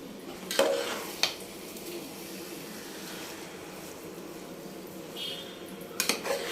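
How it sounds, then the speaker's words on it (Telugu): A spoon stirs bread halwa mixture with ghee in a pan over a soft, steady sizzle, with a few sharp scrapes and clinks against the pan near the start and end. "అంతా చక్కగా మిక్స్ అయ్యేలాగా కలుపుకోవాలండి."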